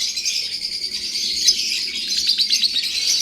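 Lovebirds in breeding cages, including a blue pastel splitino pair, chirp steadily in a busy high-pitched chorus of rapid tweets, close and continuous.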